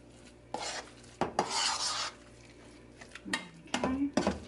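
Broccoli and cheese casserole mixture with sliced and fresh cheddar cheese being stirred, giving scraping, clinking utensil bursts against a bowl in short irregular strokes, close and moderately loud.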